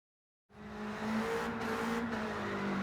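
Abarth 1500 car in Gran Turismo 7 heading out onto the circuit: engine note starts abruptly after a brief silence and holds a steady, fairly loud drone throughout.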